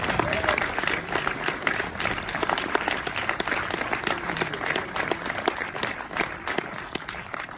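Sustained applause from a cinema audience at Le Méliès in Montreuil, welcoming a film director and guest on stage; dense, steady clapping throughout with a hint of background voices.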